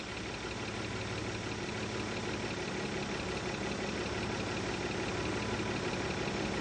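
A Mazda MX-3 engine idles steadily at close range, an even low rumble with a faint regular knock throughout and no speech.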